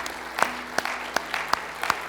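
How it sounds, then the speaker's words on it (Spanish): A church congregation claps in praise to the Lord during a Spanish-language service: five or six sharp, evenly spaced claps ring out in a steady rhythm over a quiet hum, without dense applause. "Demos un aplauso de alabanza a nuestro Señor."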